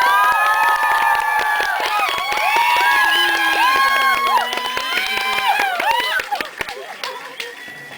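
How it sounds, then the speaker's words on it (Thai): A crowd screaming and shrieking loudly and continuously, high-pitched voices overlapping, fading slightly toward the end. "แค่ขยับนิดเดียวก็มีเสียงกรี๊ด"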